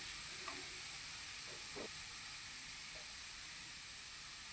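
Coconut and jaggery laddu mixture stirred and fried in a pan, giving a steady soft sizzling hiss with a few faint scrapes of the spoon, heard alone without talk.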